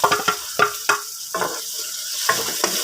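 Garlic, onion and tomato sautéed together in a pan, a spatula scraping and stirring in quick close strokes over a steady sizzle.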